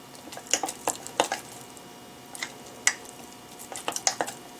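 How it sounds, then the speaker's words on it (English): A spoon or utensil stirs flour into sourdough starter in a bowl, giving scattered scraping clinks and soft taps close by in an irregular rhythm. "Get the flour in. Give this a nice stir."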